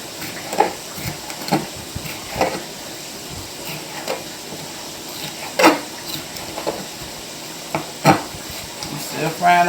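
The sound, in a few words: pork chops frying in a pot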